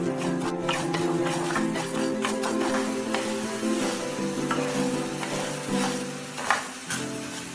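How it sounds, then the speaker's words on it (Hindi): Urad dal dry-roasts in a hot kadhai over medium flame, a dense rattling sizzle as the lentils are stirred, with scraping strokes and a louder clatter near the end; a low steady hum sits underneath and nobody talks. "दाल को हमें ब्राउन कलर होने तक रोस्ट करना है।"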